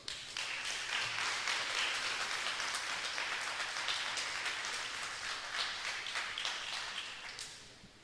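A church congregation applauds steadily for several seconds, dense clapping that tapers off toward the end.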